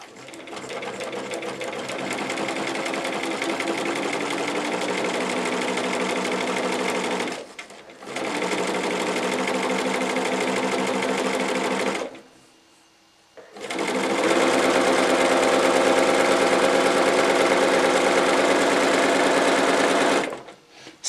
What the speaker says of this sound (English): I'm ready to sew my first seam line between patch 1 and 2, and I'm going to sew right on the line